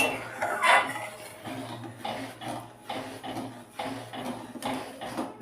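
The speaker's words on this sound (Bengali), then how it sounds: "আস্তে আস্তে দেবো এবং সঙ্গে সঙ্গে নাড়তে থাকবো কারণ কর্নফ্লোরটা দিলে এটা ঘন হয়ে আসবে" A cornflour and mango mixture being stirred in a pan for a ripe-mango sweet: soft scraping and occasional clinks of a spoon against the pan, close and low, with some background noise.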